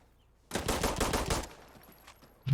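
A rapid burst of automatic gunfire in the shooter game Insurgency: Sandstorm, close and loud for about a second, then fading into a few echoing tails before another sharp shot.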